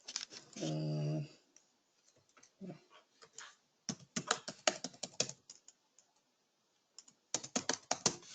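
Program code being typed on a computer keyboard: bursts of quick, close keystroke clicks in uneven runs with pauses between, after a brief tonal blip at the start.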